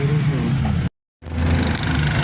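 Cars sit idling in a stalled traffic jam, a steady low engine drone with a faint rumble that cuts out briefly to silence before resuming, no voices over it.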